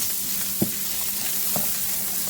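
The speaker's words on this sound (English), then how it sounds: "I'm going to stir this together just so that I can incorporate all of those seasonings into the meat" Hamburger meat seasoned with garlic, ginger and turmeric sizzles steadily in a frying pan as it is stirred, with two soft utensil scrapes over the constant frying hiss and no talking.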